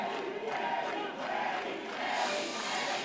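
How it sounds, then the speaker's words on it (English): A crowd in the stands at a varsity high school wrestling dual meet on senior night chants for a wrestler, a dense, loud, reverberant roar of many voices that swells and surges continuously. "The crowd chanting for Manny Perez."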